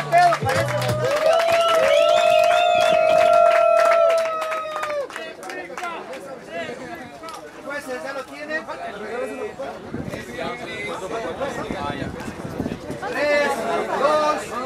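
A crowd at a rap battle semifinal erupts after a loud sustained tone, mixing clapping, cheering and shouted voices into a lively, continuous roar.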